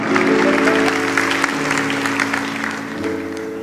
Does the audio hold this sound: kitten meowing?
no